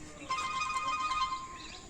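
A phone rings in a short electronic tone pattern, fairly faint with steady pitched beeps, against a quiet room background.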